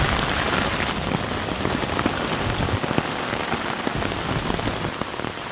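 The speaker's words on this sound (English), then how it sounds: "this is gonna be a high wind rain event" Heavy rain drums steadily on an Ozark Trail one-person tent during a high-wind storm, a dense, loud, unbroken patter with no voices.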